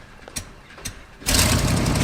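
Diesel engine of an abandoned camper running, first as a faint idle with a couple of soft knocks, then surging into a loud, steady, rough roar for the second half.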